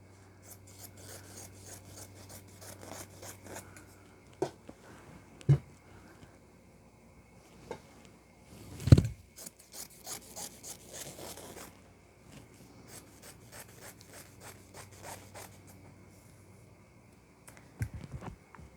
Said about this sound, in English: So I can just take this and cut it right down the middle